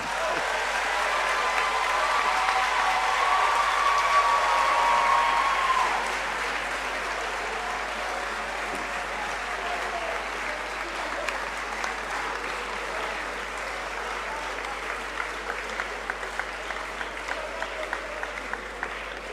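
An audience at a university inaugural lecture applauds for the professor, a full, sustained round of clapping that swells early, then eases into a thinner patter with scattered individual claps toward the end.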